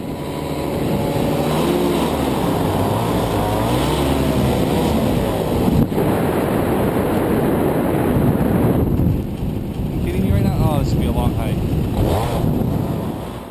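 Paramotor engine malfunctioning in flight, a loud droning motor with wind rush whose pitch wavers and surges, dropping off near the end, while a pilot speaks over it.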